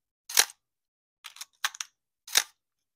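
A Minolta X-700 SLR camera shutter fired at 1/1000 second, four or five crisp mechanical clicks spaced unevenly over a few seconds, close and isolated against silence.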